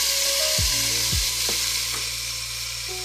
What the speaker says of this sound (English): You just want to cook your bacon until it's nice and crispy and golden.